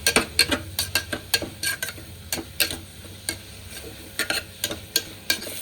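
Onions with salt sautéing in a pan for Punjabi mutton curry: a quick series of sharp spoon-on-pan knocks and scrapes over a faint sizzle, close up and fairly regular, with no voices.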